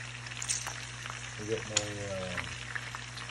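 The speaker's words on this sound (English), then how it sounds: "We'll start off by frying some bacon." Bacon frying in a pan for a biscuits-and-gravy breakfast gives a steady, close crackling sizzle throughout, with a few brief spoken words over it.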